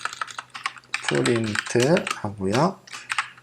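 Rapid clicking keystrokes on a computer keyboard as code is typed, steady and close, with a voice speaking over part of the typing.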